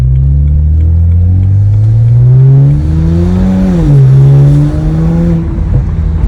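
BMW 335i with an N54 engine and burble tune revs loud and close, pitch climbing and dropping through rev-matched downshifts, with steady exhaust rumble throughout and no talk.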